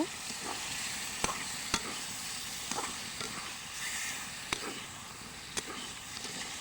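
Spice paste fries with a steady sizzle while boal fish pieces go into the pan, punctuated by a few sharp clinks and stirring knocks, close and fairly quiet throughout.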